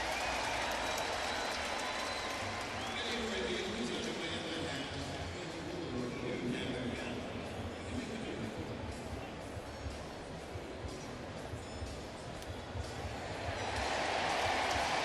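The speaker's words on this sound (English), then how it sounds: "Crowd sees it on the big screen, so they cheer." A crowd at a baseball stadium in New York cheers during a Rays-Yankees game, a broad roaring wash of voices that swells toward the end, with a broadcaster talking over it.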